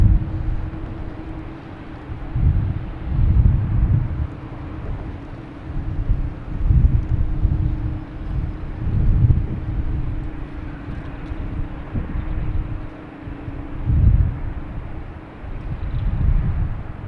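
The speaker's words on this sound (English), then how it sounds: "we have a Delta heading to LaGuardia" Delta Embraer E175 jet airliner taking off at Boston Logan, a steady low engine rumble heard from a distance with gusting wind buffeting the microphone, rising and falling in waves.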